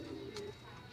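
Pigeon cooing softly at close range, a brief low coo over faint background hiss, with a short higher noise burst partway through; the bird is a new stock pigeon.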